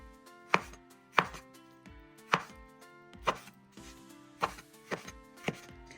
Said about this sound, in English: Slicing the tuna now. I'm cutting them in cubes.